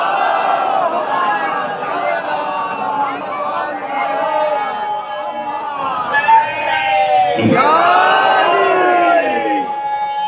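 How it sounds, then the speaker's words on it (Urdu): A large crowd at a Shia majlis gathering at Chota Imambara loudly recites durood in unison, a swelling mass of chanting voices that rises near the end. "ایک بلند ترین درود پڑھے سب مل کر محمد و آل محمد پر"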